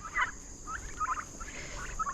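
Several turkeys gobbling in bursts, close by, with a steady high hum in the background and no talking.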